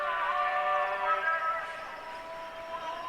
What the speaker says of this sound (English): It's the sound of the call to morning prayer.